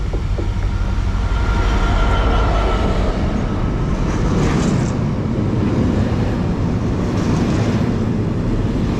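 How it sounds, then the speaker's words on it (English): A DRS Class 66 diesel locomotive hauling a freight train passes close by, a loud continuous rumble and rolling clatter of wagons that holds steady throughout, with some wind buffeting on the microphone. "got some more freight coming through now. This time a DRS 66"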